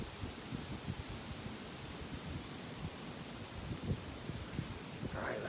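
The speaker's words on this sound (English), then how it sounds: "Wow, the wind has really gotten brutal." Strong gusty wind roars steadily on a hilltop, with low buffeting rumbles hitting the microphone. No one speaks.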